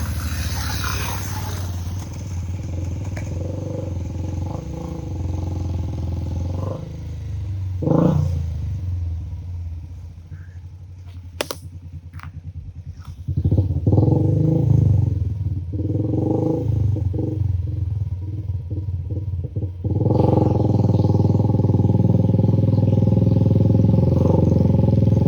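An off-road vehicle in a forest rumbles and revs in uneven bursts, with clattering and knocks, a quieter lull in the middle, and then a heavier, sustained engine roar near the end.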